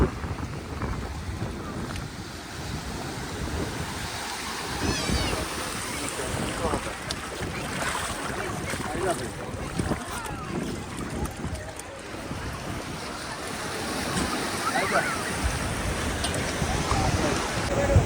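Riding a speed boat at Juhu beach in Mumbai gives a constant roar of wind buffeting the microphone and water rushing past the hull, loud and unbroken throughout.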